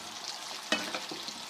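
Samosa pinwheels fry over low heat in a pan with a soft, steady sizzle, and one brief clatter near the middle.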